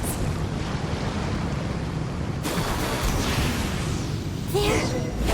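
Boat engines rev with a broad, loud rushing roar in Genshin Impact, steady throughout with a brief surge of noise and a tonal sweep near the end.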